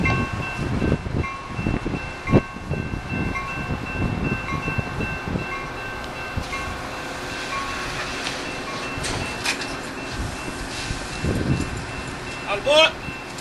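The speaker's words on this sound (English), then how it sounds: "The next inbound train to Chicago is now arriving in your station." Metra inbound commuter train to Chicago pulling into Fort Sheridan station, a steady rail rumble with clanks and a brief high squeal near the end, heard under platform announcement speech.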